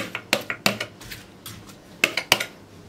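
Sliced potatoes tumble into an oven-proof dish with a series of sharp clinks and clatters, some grouped close together and some spaced apart. Short and close, with no talking.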